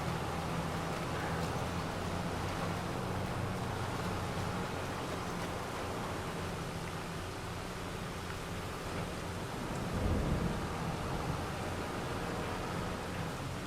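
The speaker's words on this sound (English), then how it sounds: "got rain" Steady broadband rain hiss fills the scene in the Farming Simulator 25 video game, with a low rumble of thunder swelling briefly near the end.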